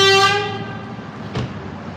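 A car horn honks loudly on a New York Upper West Side street, one sustained blast that fades into traffic rumble, with a brief second tap near the end.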